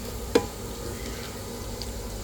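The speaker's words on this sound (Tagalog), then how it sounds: "Gisa-gisa guys" Ampalaya (bitter gourd) ingredients sautéing in a pan give a faint, steady sizzle and stirring rustle, with one sharp utensil tap near the start.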